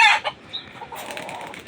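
A native hen squawks and clucks loudly up close while being caught by hand, a sharp burst of agitated calls that trails off into softer, lower clucks.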